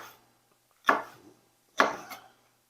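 Knife chopping vegetables on a board in a home kitchen while preparing sweet corn and vegetables: two distinct cuts about a second apart, each a sharp close thud with a short scraping tail, in an otherwise quiet room.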